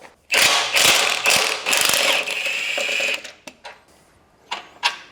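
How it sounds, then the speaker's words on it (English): Ratchet wrench clicking in quick bursts while unbolting the differential on a V12 BMW 850i, close and loud, with a long sustained run of clicks, then scattered short ratchet clicks and taps trailing off. "Let's unbolt the diff and get it out."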